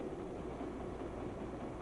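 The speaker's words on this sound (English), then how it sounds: "A few minutes from now, this train comes to a tunnel." A passenger train runs steadily, a continuous low rumble and rolling rattle heard from inside a carriage, quiet and unbroken with no talk.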